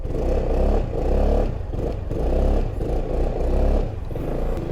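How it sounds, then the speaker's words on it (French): Exhaust of a 2023 Yamaha XMAX 300 scooter, a muffled, soft low rumble that swells and falls in several revs, close and moderately loud, with no voices. "Je vous fais écouter le bruit de la ligne d'échappement."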